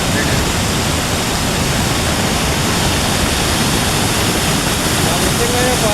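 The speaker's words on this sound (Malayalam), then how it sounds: "പുഴ ഒഴുകുക ഇപ്പൊ റോട്ടിൽ കൂടെ" A river in Wayanad, Kerala, flows across a road after a landslide that swept away a bridge, producing a loud, constant rushing roar of water with no pauses.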